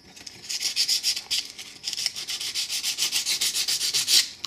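Stainless steel Desert Eagle slide serrations sanded by hand with sandpaper, a close, steady run of quick rasping back-and-forth strokes with a brief pause partway through.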